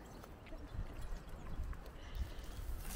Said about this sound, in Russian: Вымытые, чистые лошади